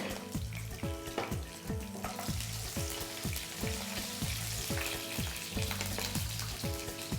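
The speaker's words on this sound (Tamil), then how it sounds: "கருவேப்பிலை ஃப்ரை பண்ண உடனே பச்சை மிளகா," Curry leaves and green chili fry in oil with a steady sizzle, set under a continuous backdrop of repeating rhythmic music, with no one speaking.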